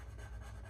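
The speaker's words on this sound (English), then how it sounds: "trace all of these lines with a good heavy coating of graphite on each one of the lines" Pencil graphite rubbed heavily back and forth over traced lines of an owl design, a soft, faint, continuous scratching up close.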